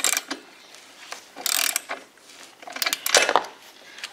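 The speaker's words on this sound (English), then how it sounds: "take our 5/8 inch socket again and just twist that in there the rest of the way" A 5/8 inch socket on a ratchet threads a spark plug into a RedMax EBZ8500 backpack blower engine, heard as short bursts of close metallic clicking and light rattling with quiet gaps between.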